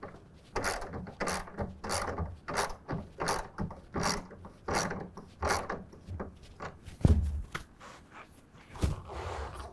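A ratchet tightens tonneau cover rail bolts to 10 foot-pounds on a truck, producing a close, rhythmic run of quick clicking bursts with a couple of heavier knocks near the end and no speech.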